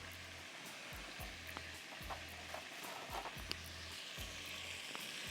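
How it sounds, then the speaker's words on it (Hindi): Curry leaves, fennel seeds and whole cumin sizzle and crackle in hot oil, a continuous close frying hiss with intermittent stirring scrapes and pops, no voices. "कड़ी पत्ता और साबुत ज़ीरा डाल दिया। ज़रा सा इसको भूनने दें"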